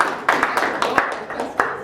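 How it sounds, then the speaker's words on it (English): Applause for a panel at a discussion on mining exploration in Zambia, a few hands clapping in an uneven, moderate patter, close and brief. "let's give them a round of applause"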